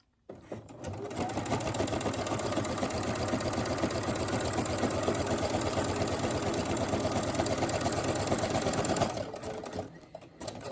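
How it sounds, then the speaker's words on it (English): A Brother SE1900 sewing machine with a side cutter foot stitches and trims fabric in one close, steady, rapid whirring run of about nine seconds that starts and stops abruptly. "I'm going to go ahead and sew it"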